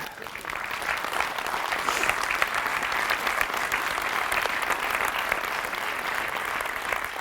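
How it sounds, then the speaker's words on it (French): A comedy-show audience applauds as the comedian takes a drink of water, a steady, full round of clapping from many hands that holds evenly throughout. "C'est la première fois qu'on applaudit quelqu'un qui boit de l'eau"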